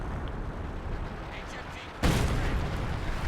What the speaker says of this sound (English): Never mind, that's artillery.